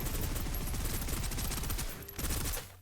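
Rapid automatic gunfire in the shooter game Snowbreak: Containment Zone, a dense close burst of repeated shots that continues almost unbroken and then tapers off at the end.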